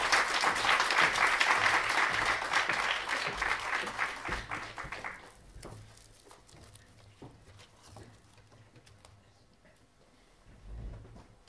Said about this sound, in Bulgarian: Моля за вашите силни аплодисменти за Кръстю Петров